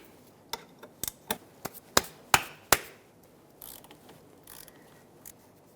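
A 3/4-inch wrench clicks as it breaks free a worn oil drain plug on a 2008-2010 Ford F-450 Super Duty diesel: a run of sharp, close ratcheting clicks that grow louder, then softer scraping.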